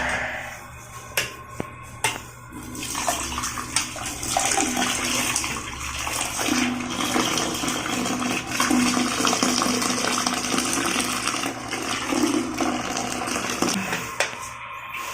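Hot water mixed with dishwashing liquid is poured into a clogged toilet bowl, giving a long, close splashing and gushing of water with a few sharp knocks and clicks near the start.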